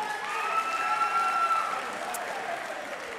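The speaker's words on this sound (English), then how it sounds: "Give yourselves a round of applause." An audience applauds itself for arriving on time, producing a steady, moderately loud wash of clapping with a few sustained tonal hums over it.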